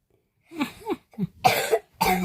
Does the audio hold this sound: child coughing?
yes